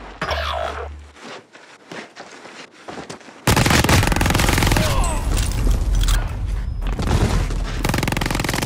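Gunfire in Call of Duty: Modern Warfare quads, player under fire with gas inbound: rapid bursts and scattered shots, quieter at first, then a loud, dense stretch of close automatic fire and impacts.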